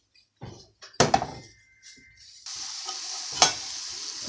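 Vegetables with a splash of vinegar hit a hot pan, bringing a couple of utensil clatters and thunks, then a steady close sizzle that settles in for the last seconds.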